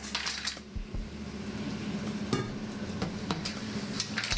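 Mussels, locally called kutai, tossed into a hot tray with garlic, crackling and sizzling steadily up close with a few metallic clinks and scrapes of stirring utensils against the tray.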